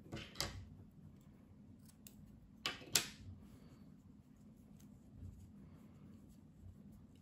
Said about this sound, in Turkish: Bu ipliği kesiyorum.